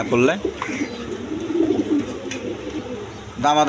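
Pigeons coo in a loft of breeding pairs offered for sale, soft throaty coos sounding close by, with someone talking over them and after them.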